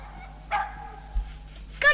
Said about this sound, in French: je vous présente mes deux chiens, Flic et Flac.